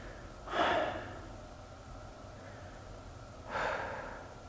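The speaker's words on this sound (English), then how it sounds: "Take a few breaths." Two slow, audible breaths during a yoga session, each a soft airy exhale or sigh, spaced about three seconds apart over a quiet room.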